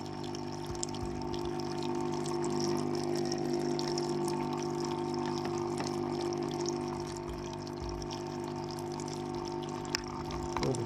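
An automatic rotating shower sprinkler sprays water over bean sprouts being grown, giving a steady, even hiss of spray over a continuous low pump hum throughout.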